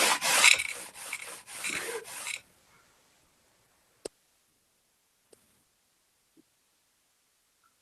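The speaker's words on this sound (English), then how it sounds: "That's some loud sandpaper you got" Coarse, large-grit sandpaper rubs in several quick, loud strokes for about two seconds, followed by near silence with a few faint isolated clicks.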